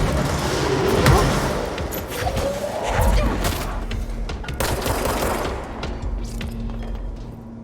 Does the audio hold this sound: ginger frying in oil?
no